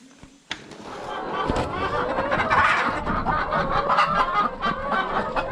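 A flock of about a thousand egg-laying hens clucks and chatters on a summer farm at feeding time, a busy, fairly close chorus that swells after a sharp knock.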